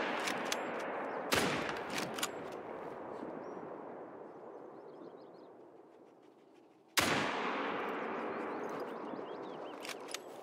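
Two loud, sharp rifle shots ring out several seconds apart while hunting red deer in theHunter: Call of the Wild, each followed by a long rolling echo that slowly fades across an open outdoor landscape.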